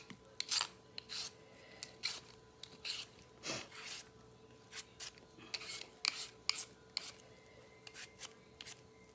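Potatoes being peeled by hand, producing quiet, close scraping strokes in short irregular bursts with pauses between them, faint against a low background hum.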